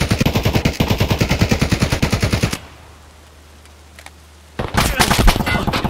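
Rapid automatic gunfire in Escape from Tarkov, a loud sustained burst of evenly spaced shots, then a lull with faint background before another dense burst erupts near the end.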